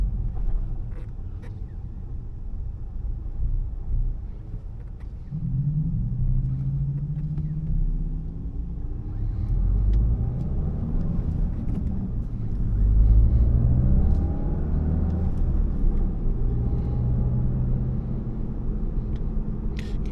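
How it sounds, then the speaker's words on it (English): A low, steady artificial engine sound fills the interior of a Mk8 Volkswagen Golf GTI, rising and falling in pitch as it drives, with faint road rumble underneath. "kind of hear the fake engine sound"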